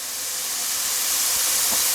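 Potato cubes frying crisp in hot oil make a loud, dense, continuous hiss that holds steady and close throughout, with no voices over it.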